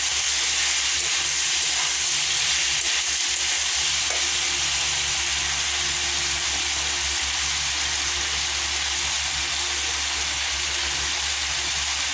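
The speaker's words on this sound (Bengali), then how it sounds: "টমেটো কাঁচা ঝাল দিয়ে আবার একটু নাড়িয়ে চাড়িয়ে নিতে হবে" Chickpea curry with tomato and green chili sizzles steadily in a pan as it is stirred, a close, even hiss with a low hum underneath and no talking.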